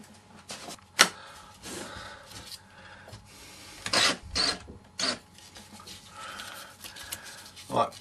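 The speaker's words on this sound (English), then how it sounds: "you could do this by hand" Rough rasping and rubbing strokes of hand sanding with sandpaper on a plastic scale model aircraft, in irregular bursts, some louder scrapes standing out, with faint talk in the background.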